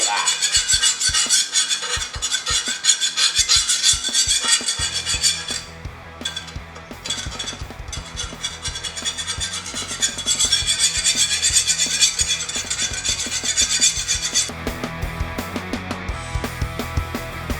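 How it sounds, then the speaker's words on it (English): A hand scraper rasps stripped paint off a custom RAW bike frame in repeated close scraping strokes. There is a short lull partway through before the steady scraping resumes. "also scrape off the edges"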